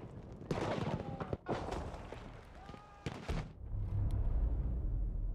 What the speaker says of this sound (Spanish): Aquí hay un cañón antitanque también y disparando.